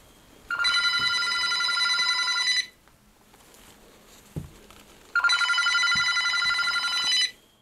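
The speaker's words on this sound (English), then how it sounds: "the phone doesn't seem to be connected to anything, and yet it continues to ring demonically" A push-button telephone, already off the hook and sitting in a torn cardboard box beneath a table, gives two long bursts of shrill electronic ringing separated by a quiet pause of a few seconds.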